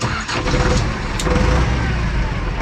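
A heavy Ursus 1004 tractor engine turns over and catches, running with a rough, loud rumble nearby.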